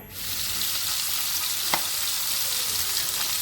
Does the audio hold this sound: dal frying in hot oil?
yes